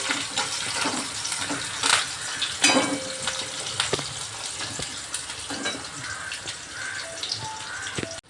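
Chopped onion frying in a little hot oil for a Maharashtrian chicken curry, a steady close sizzle broken by scraping stirs and clinks of a spoon against the pan, with no talking.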